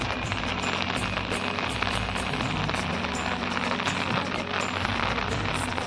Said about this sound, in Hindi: हल्का हल्का बारिश होते छे।